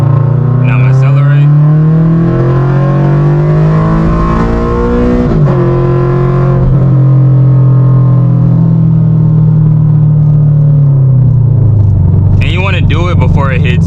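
A car pulls hard in second gear after a paddle-shift downshift for a highway merge, its engine note climbing and dipping in loud rising sweeps, with a shift break midway and a second surge near the end.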